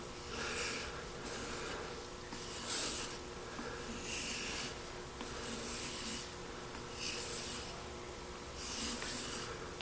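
A knife edge is stropped in slow, even strokes. Soft rasping rubs come back and forth about once a second at close range, with no talking.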